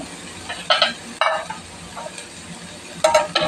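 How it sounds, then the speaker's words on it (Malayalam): Chicken cutlet masala of chicken and potato is sautéed in a pan, with a few short bursts of spoon scraping and stirring over a soft background sizzle, heard up close with no talk. "നമുക്കത് നന്നായിട്ടൊന്ന് വഴറ്റിയെടുക്കാവേ"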